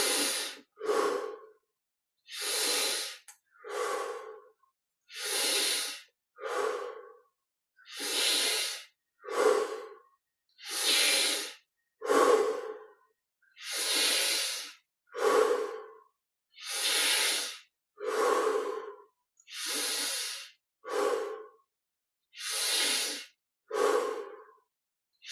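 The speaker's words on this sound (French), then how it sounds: "On ouvre la poitrine et on observe ces 20 respirations profondes." Deep breathing during a guided Kriya Yoga meditation, with slow alternating inhales and exhales in a steady rhythm, each airy breath clearly audible and close, more than a dozen cycles with silence between them and no talk.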